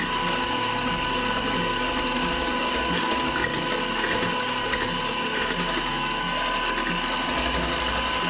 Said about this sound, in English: Now add 150 grams of yogurt and whisk for 15 seconds.